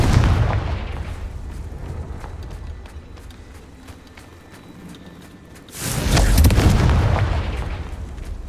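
A Confringo fire spell in the Hogwarts Legacy video game erupts in a loud, roaring blast about two-thirds of the way through, rising sharply over a rumbling, gritty background and then holding a dense, crackling surge.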